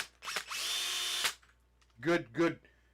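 A brushless power drill whirs in a steady burst for about a second, then two short trigger pulses rev up and wind down.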